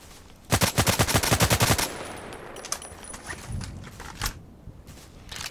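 An SVU-AS automatic sniper rifle fires in the video game Contract Wars: a rapid, loud burst of about a dozen shots, then a few scattered single shots and echoes over a steady background.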